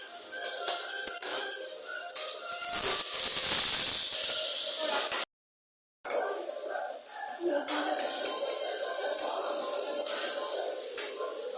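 Sliced onions hiss and sizzle in a hot pan as they fry toward browning, a bright, steady crackle broken by a short silent gap, with spatters rising and falling in intensity.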